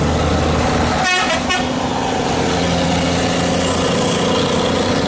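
A Mercedes-Benz 1521 bus horn sounds in two short melodic bursts over the steady rumble of its large idling diesel engine, with no talking.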